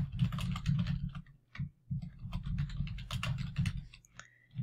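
An email address is typed on a computer keyboard in quick, uneven runs of close, crisp key clicks, with a couple of brief pauses between bursts.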